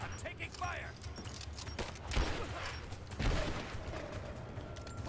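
Gunfire rattles in the video game Rise of the Tomb Raider, a dense, steady run of bursts and shots with continuous game noise.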